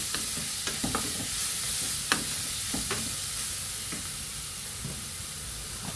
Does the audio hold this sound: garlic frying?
yes